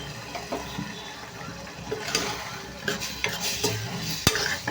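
Close, steady sizzling and bubbling of fish cooking on a griller, with occasional clicks and a sharp tap of utensils against the pan.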